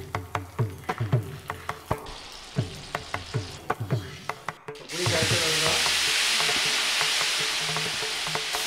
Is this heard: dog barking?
no